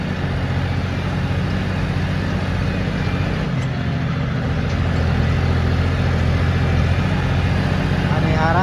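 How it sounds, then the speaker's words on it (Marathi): A loud tractor without shock absorbers rattles along a dug-up road, its engine producing a steady, close, continuous rumbling drone throughout. "मोकार आवाज आहे ट्रॅक्टर."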